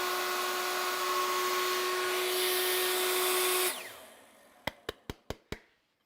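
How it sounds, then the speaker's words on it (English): A vacuum cleaner drawing out wood shavings from a workpiece drones steadily with a whine, then winds down and stops, followed by five quick sharp knocks alone in the quiet. "That's the reason why it's worth setting up a vacuum cleaner."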